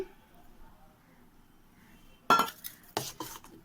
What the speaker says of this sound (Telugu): ఒక గిన్నెలో నేను ఇందులోనే మజ్జిగ కూడా కలుపుకొని బాగా మిక్స్ చేసేసుకుంటున్నానండి